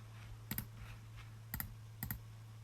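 A computer mouse gives three crisp double clicks, each a quick press-and-release, spaced apart over a quiet background hum.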